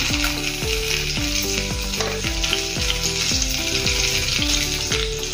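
Okra and onion frying with red chili powder for bhindi pyaz sabzi, a loud, dense close sizzle running throughout, with a repeating tonal clatter, probably utensils, and no talking.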